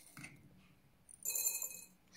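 Rice grains rattle inside a glass bottle being cleaned, two short bright clinking shakes separated by a pause, the second louder and sharper.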